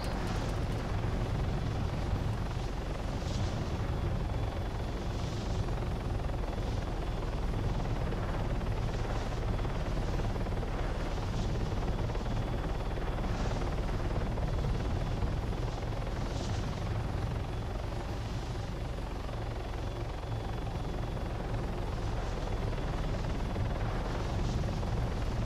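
A helicopter sweeps past in the video game Arma 3, a steady, dense rotor thrum with a rhythmic beating pulse, loud and close throughout.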